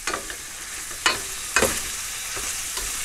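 Sweet chili pork drops into a hot frying pan, a broad sizzle with a few sharp bursts of hissing as pieces land and are stirred, close and fairly loud with no voices.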